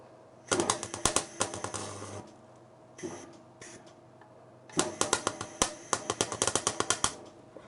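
Welding on thin car body metal for a widebody Alfa Romeo Giulietta, close crackling, popping bursts in two long runs separated by a short pause with brief sputters, sharp irregular snaps throughout, no voices.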